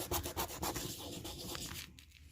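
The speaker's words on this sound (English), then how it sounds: "this clear coat is pretty rugged, so I'm going to scuff it up" Tough factory clear coat on a Hot Wheels '67 Chevelle being scuffed with quick, close rubbing strokes. The scraping is rhythmic at first, then fades near the end.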